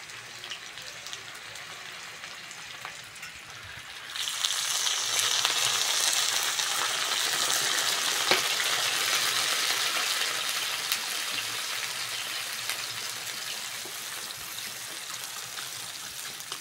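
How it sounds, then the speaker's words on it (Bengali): Water pours from a vessel into a pan of oil-fried vegetables for a thin fish curry with papaya, potato and green banana, starting as a sudden loud hissing gush that settles into steady bubbling sizzle. "এইবার জল দিয়ে দেবো।"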